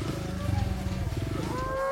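A white Belgian Blue cow moos in a long, low, drawn-out call outdoors in the Minang highlands of West Sumatra, close and fairly loud, with a rising tone near the end.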